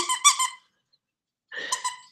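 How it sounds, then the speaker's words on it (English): A squeaky taco-shaped dog toy squeaks twice, with a silent gap between the bursts; each squeak is sharp and close. "And somebody sent me this taco uh, dog toy. It's a squeaky toy."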